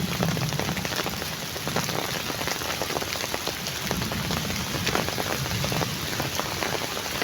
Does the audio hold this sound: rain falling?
yes